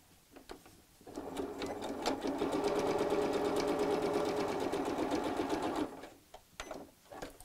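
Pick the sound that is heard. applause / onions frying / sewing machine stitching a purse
sewing machine stitching a purse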